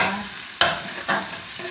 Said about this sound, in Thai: เราก็จะเจียว ผัดกระเทียมให้หอมนะคะ